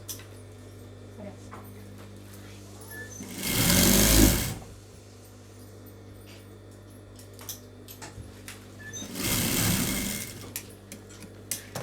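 A sewing machine stitching a blouse runs in two short, close bursts of whirring separated by a quiet pause with light handling clicks.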